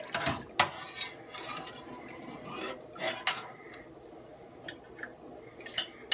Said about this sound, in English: I'm gonna grab a give it a good stir here.